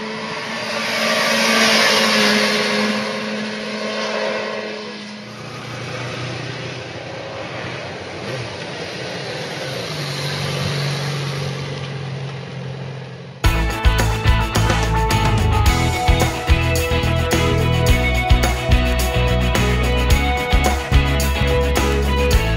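A Yamaha XJ6 Diversion motorcycle ridden on the road gives a steady engine drone with shifting revs for about thirteen seconds, and then loud music takes over.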